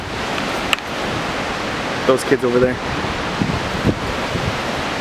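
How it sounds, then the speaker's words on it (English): A waterfall on a hiking trail at the falls in Ithaca, New York, gives a steady broadband roar mixed with wind buffeting the microphone, while people talk briefly over it. "Beautiful waterfall."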